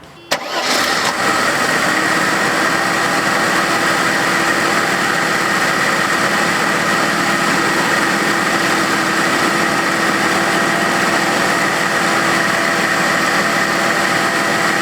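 A Mercedes M103 engine fires up and settles into a steady, loud idle just after a thermostat replacement, running evenly and close by for the whole stretch with no talk over it.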